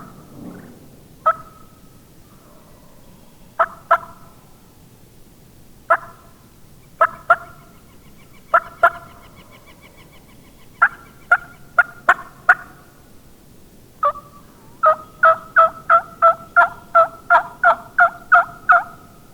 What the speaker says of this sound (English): They're gobbling really good right over there, probably 200 yards.